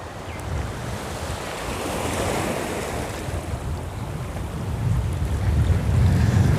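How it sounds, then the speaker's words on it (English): Sea waves wash onto the shore close by, a steady broadband surf roar that swells louder toward the end, with some wind rumble and no voices. "You can't get much closer to the sea."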